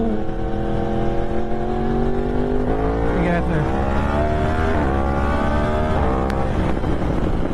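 A Yamaha R1 sport motorcycle engine revs loudly and steadily, its pitch climbing in a few surges over a constant rumbling drone, with a voice faintly underneath.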